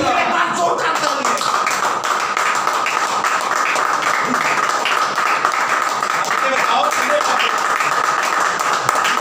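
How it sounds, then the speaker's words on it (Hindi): Congregation in a church gives loud, sustained applause after a sermon exclamation, a continuous dense wash of clapping throughout. "एक बार जोरदार तालियां।"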